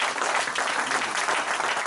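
Steady, dense applause from a church congregation fills the whole moment, loud and continuous without a break.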